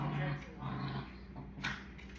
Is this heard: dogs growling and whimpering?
yes